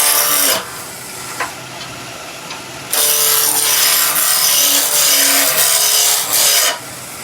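Wood lathe roughing down a turning blank for a nativity scene piece, a loud broadband scraping and cutting roar that comes in bursts, dropping back briefly between passes of the gouge, with no talking.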